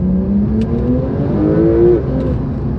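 A Porsche 911 992 Turbo S accelerates with an engine note that climbs steadily in pitch for about two seconds and then eases off, heard up close with no voices.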